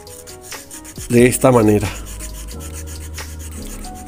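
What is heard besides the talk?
sanding the hook of an overlock sewing machine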